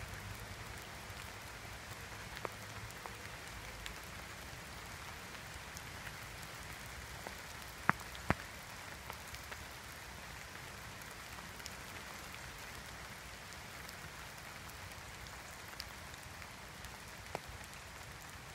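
Rain falls through the canopy of a wet woodland as a faint, continuous soft hiss, with a few scattered louder drips landing nearby, and no voices.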